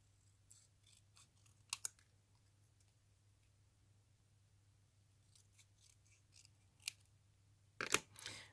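Scissors snipping a little bit off in a quiet room, a few faint, sparse cuts and clicks with short pauses between them and a louder burst of snipping at the end.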